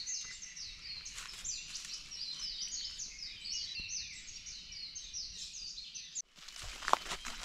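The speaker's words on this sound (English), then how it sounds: "We're going to be quiet for a minute and just let you listen to all the birds." Many small birds chirp and twitter continuously at a moderate distance in a Maui forest with eucalyptus, a dense overlapping chorus, with a brief rustle or footstep near the end.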